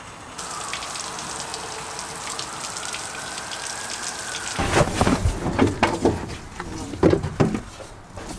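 Water running off a van windshield into its drain, a soft steady trickle at first, then louder splashing and spattering bursts as the flow picks up, with faint voices nearby.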